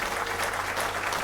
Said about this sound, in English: accept the applause